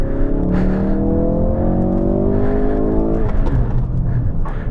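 A Ford Mustang or Focus RS drives hard on a track, its engine droning loud and steady with rising harmonic whine as it accelerates, then shifting near the end, heard from inside close up with no talk.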